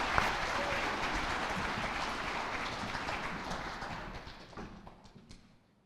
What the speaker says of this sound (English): Please help me give her a big round of applause.